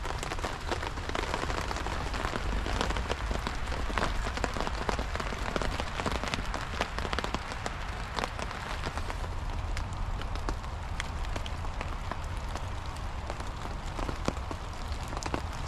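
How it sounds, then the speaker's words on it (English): Steady rain patters and drips through an old tarp close by, a constant dense hiss with scattered louder drops throughout. "This tarp is so old, there's literally just water coming through it."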